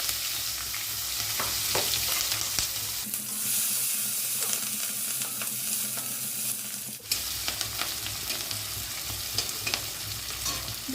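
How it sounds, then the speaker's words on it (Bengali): Onion, garlic and green chili fry in hot oil while banana flower is being cooked, with a steady close sizzle and scraping stir strokes, and the hiss briefly swelling partway through. "রেখে এর ভিতরে পেঁয়াজ রসুন কাঁচা ঝাল তেলের ভিতরে দিয়ে দিচ্ছি।"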